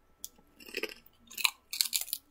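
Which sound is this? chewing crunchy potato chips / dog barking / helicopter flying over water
chewing crunchy potato chips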